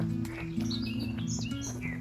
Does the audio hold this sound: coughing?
no